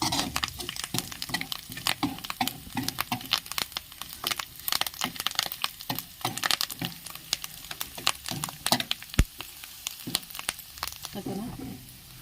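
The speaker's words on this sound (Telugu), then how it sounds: "కొంచెం జీలకర్ర అండి ఇవి బాగా వేగాలండి" Cumin seeds and green chillies frying in hot oil as a tempering for a drumstick-leaf lentil dish, a close, crackly sizzle with scattered sharp pops and spoon clinks running throughout.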